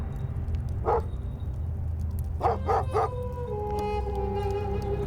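Big shepherd's guard dogs on night watch over a flock in desert lands give a single bark, then a quick run of three barks, followed by a long drawn-out howl over a steady low rumble of background noise.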